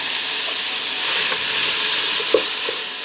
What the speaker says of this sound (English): I'm going to fry that ground beef till it turns brown and saute the onion in there